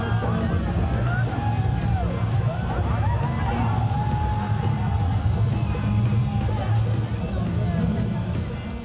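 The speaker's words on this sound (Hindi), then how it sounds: "भोजपुरी गाने की हर लाइन के साथ सीटियों की आवाज और दीवानी होती भीड़" A packed crowd at a Bhojpuri song performance at the Sonpur fair yells and cheers steadily over loud music, with rising whistles cutting through the din throughout.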